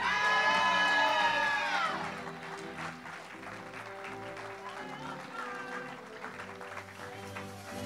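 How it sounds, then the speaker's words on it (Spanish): Audience at a school graduation ceremony in Arecibo, Puerto Rico applauding a graduate receiving medals, loud cheering and whooping at first, then settling into steady clapping and crowd noise with voices mixed in. "Fuerte aplauso para Oscar"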